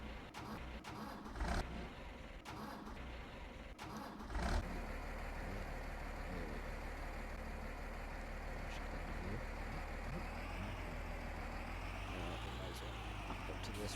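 A farm tractor engine starts after a few cranking bursts, then settles into a steady, loud running rumble near the microphone, with no talk over it.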